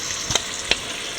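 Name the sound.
water boiling in a pan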